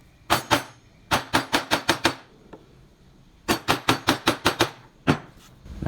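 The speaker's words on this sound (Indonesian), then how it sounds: "Nah jadi sekali pukul langsung jadi ya teman-teman." A mallet strikes a gouge chisel while carving a wooden gebyok panel, giving two bursts of sharp, evenly spaced knocks, about six blows each, close and distinct with short pauses between.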